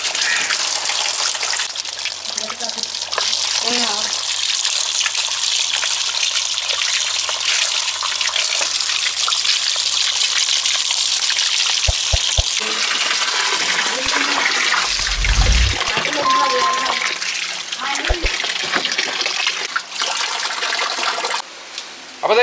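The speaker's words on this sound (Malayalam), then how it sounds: "ഫസ്റ്റ് നമുക്ക് നോർമൽ വെള്ളത്തിൽ കഴുകണം" Running water pours steadily from a tap as pineapples are washed under it, a loud continuous gush with occasional splashes and knocks over about twenty seconds.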